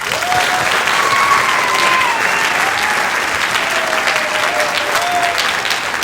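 Steady, full audience applause for a high school senior transition panel, filling the whole stretch, dense clapping with faint voices mixed in, holding an even loudness from start to end.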